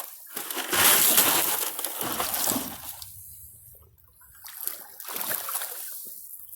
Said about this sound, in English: Let's take this bucket out, dump it.